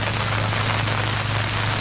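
Steady rain patters down on a surface during a Unity Cup cricket match, a dense, even hiss with a low constant hum beneath and no talk.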